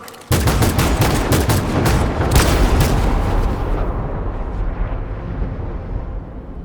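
Soldiers open fire in Detroit: Become Human, a loud burst of rapid, overlapping gunshots that starts suddenly and rattles on for several seconds before trailing off into a fading, echoing rumble.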